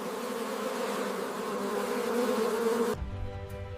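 Honey bees buzz at beehives in a dense, steady droning swarm close by, cutting off abruptly near the end to a lower, quieter hum.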